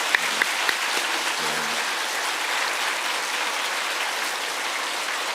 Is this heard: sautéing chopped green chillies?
no